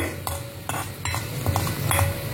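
Coconut, cumin, urad dal and dried red chillies roast in a pan, with a steady soft sizzle under repeated scraping stirs that come in brief bursts, close up and without voices.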